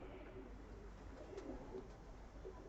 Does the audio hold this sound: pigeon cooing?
yes